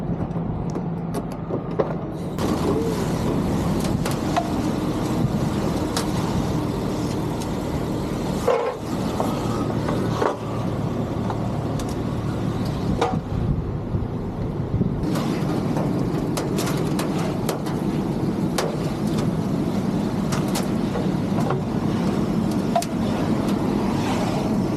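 A car rolls backward off a car hauler trailer after its straps and chain are released, with a steady engine drone and broad road noise running throughout and brief dips and clanks along the way.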